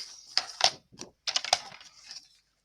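Scissors or a blade cutting card or paper along a traced line, heard close and quiet as a few short crisp snips and scrapes in uneven bursts separated by brief silences.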